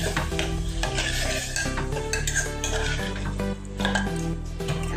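Washed lentils are mixed into a pan for palak baingan dal, with close, steady scraping and clinking of a spoon against metal under a low sizzle, and no one talking.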